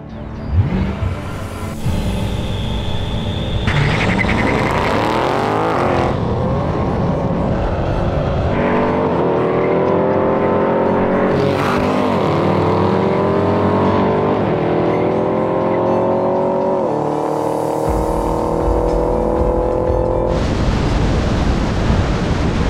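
Powerful BMW M5 and Audi RS6 engines roar loudly as the cars race, with rising and falling gear-change sweeps, wind rush and a sustained throaty drone up close.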